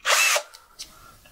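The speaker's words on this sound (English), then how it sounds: "always remember to keep your drill in reverse" A cordless power drill whirs in reverse to back out a stripped laptop screw, a short loud close burst followed by a couple of faint brief blips.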